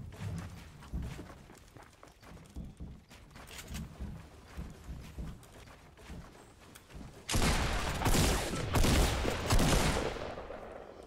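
Rapid bursts of video game gunfire in a jetpack shooter, scattered shots and footstep-like thumps early on, then a loud, dense stretch of sustained firing near the end.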